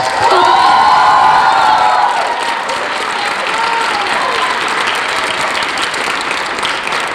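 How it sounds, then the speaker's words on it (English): A large audience at a school Christmas concert breaks into loud, sustained applause mixed with cheers and whoops, dense clapping filling the hall throughout and easing slightly after the first couple of seconds. "So big round of applause for those people."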